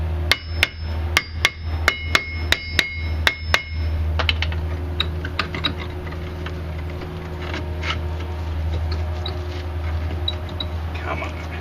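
Sharp metallic hammer blows strike a stiff original rear brake disc rotor on a 2001-2006 Hyundai Santa Fe 2WD, about nine quick loud hits in a row, then quieter tapping and shop clatter over a steady low hum.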